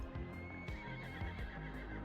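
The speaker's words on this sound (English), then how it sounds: "The horses can't keep up arriving that quickly." Horses in a city-building video game: a steady whinny and neigh alongside repeated clip-clop hoof sounds, clear and continuous, with no talking.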